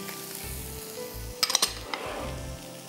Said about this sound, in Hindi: अदरक लहसुन प्याज और मशरूम्स को आपने अच्छी तरह सौटे करना है